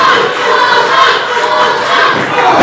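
A crowd at a UWA Elite wrestling show cheers and roars loudly and continuously, a dense wall of voices that fills the arena without a break.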